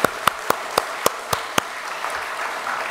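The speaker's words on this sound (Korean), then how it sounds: "하나님께 영광의 박수 돌리겠습니다." Sparse, slow claps from a church congregation during a Sunday service ring out one by one in a reverberant room, about seven evenly spaced, then fade into the room's murmur.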